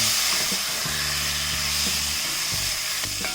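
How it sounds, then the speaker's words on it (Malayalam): Boiled potatoes sauté in a spiced masala in a pan, giving a steady hissing sizzle with light stirring over soft background music. "ഈ സമയത്ത് നമ്മൾ ഈ വേവിച്ച് വെച്ചിരിക്കുന്ന പൊട്ടറ്റോയിലേക്ക് ഇട്ട് കൊടുക്കാം. നന്നായിട്ടൊന്ന് വഴറ്റിയെടുക്കാം."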